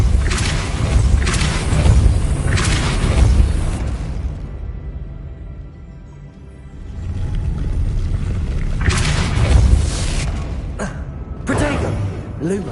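Spell blasts and booming magical impacts in the video game Hogwarts Legacy, loud rumbling bursts with a quieter lull in the middle, heard alongside game sound.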